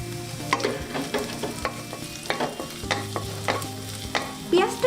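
Onion and garlic frying lightly in a pan for vegetable soup, a soft sizzle broken by repeated scraping and clinking as a spoon stirs, close and without talk.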